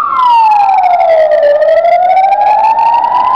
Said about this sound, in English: Oh, there goes the ambulance.